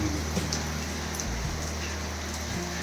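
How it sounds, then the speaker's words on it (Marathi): Heavy rain pours in a dense, constant wash of noise, loud and close, with a low rumble underneath and no talking. "पाठीमागूनच पाऊस आले बघा"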